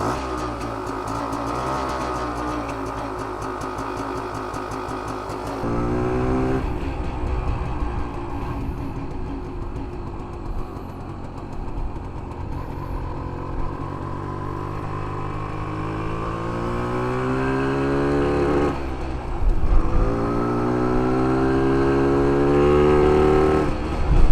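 A 1968 Montgomery Ward Riverside motorcycle engine idles steadily while warming up, a close, continuous rumble with a couple of slight rises in revs partway through and near the end.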